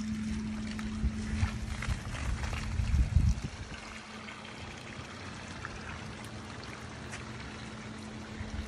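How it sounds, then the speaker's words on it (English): Water drains out of a hot tub onto a yard, a steady rushing flow with a low hum, louder and churning for the first few seconds and then settling into a quieter continuous trickle. "we'll just go ahead and let this drain down"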